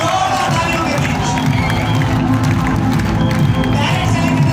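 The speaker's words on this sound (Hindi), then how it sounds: "जोरदार तालियों के बीच" A crowd at a network-marketing meet cheering and applauding a guest, a loud, continuous wash of clapping and raised voices with shouts mixed in, dense and close throughout.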